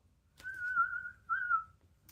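Two long, wavering whistled tones, a person whistling in imitation of a narwhal call, each held about half a second to a second.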